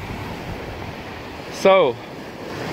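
Strong wind and breaking ocean waves on a beach make a steady, rushing roar throughout, with one brief word of speech partway through.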